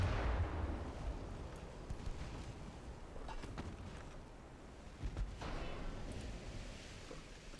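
Secondary guns of a warship fire in the naval combat game Ultimate Admiral: Dreadnoughts, a series of moderately loud booms and cracks scattered over a rumbling background, some louder bursts standing out near the end.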